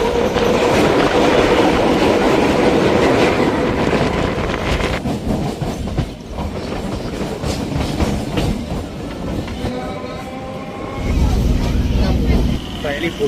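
A train stands at platform two of a railway station, a loud, continuous rumble and rattle of wheels and carriages with some clatter and brief squeal, heard close amid station noise.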